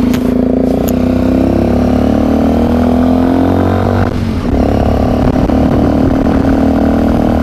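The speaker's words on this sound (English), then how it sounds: "I love this exhaust system on this bike." A Sinnis Terrain motorcycle engine revs steadily through a newly fitted throaty exhaust, loud and close, with a brief dip in pitch midway before climbing again.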